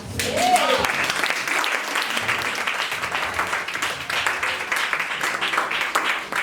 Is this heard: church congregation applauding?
yes